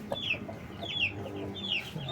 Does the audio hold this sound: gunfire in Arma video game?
no